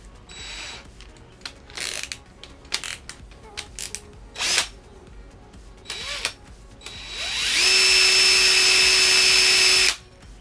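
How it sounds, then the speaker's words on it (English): A power drill drills a hole while installing HID headlights on a 2004 Kawasaki ZX-6R, whirring in several short bursts, then running steadily for a couple of seconds with a high whine before stopping, close by. "You have to drill a hole."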